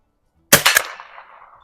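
A single sharp crack from a Stevens Springfield 87a rifle plinking at an outdoor range, close and loud with a short ringing tail.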